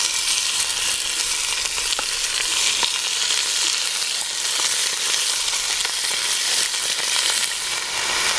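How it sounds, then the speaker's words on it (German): Beef goulash chunks searing in very hot lard in a Dutch oven, a loud, constant, close sizzle and crackle with faint stirring scrapes and no talking. "wir werden dann anfangen, dass wir unser Gulasch portionsweise anbraten werden"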